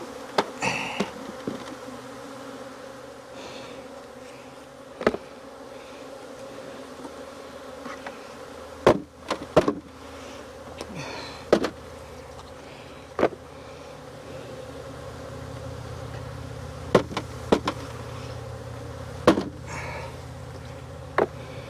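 Honeybees being shaken out of a nuc into a hive lid buzz steadily and close throughout, with sharp knocks and thumps of the equipment breaking in at intervals.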